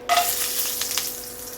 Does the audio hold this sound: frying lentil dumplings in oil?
yes